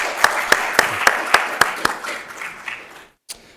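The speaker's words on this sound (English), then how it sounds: "So let's give them a round of applause and gratitude." A round of applause at a museum art talk: several sharp, regularly spaced claps ring out over a bed of scattered audience clapping, which thins and fades before stopping abruptly, followed by one last faint clap.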